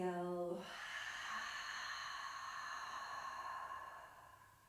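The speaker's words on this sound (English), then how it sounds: "Take a big inhalation. Open your mouth. Exhale." A long, deep exhale through an open mouth during a yoga session, breathy and soft, following a brief voiced tone and fading gradually over several seconds.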